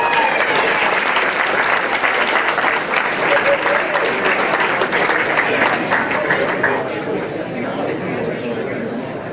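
An audience at an awards ceremony breaks into loud, sustained applause for a winner, dense clapping mixed with crowd chatter that tapers slightly toward the end.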